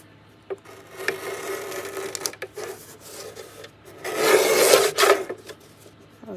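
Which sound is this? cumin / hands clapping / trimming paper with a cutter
trimming paper with a cutter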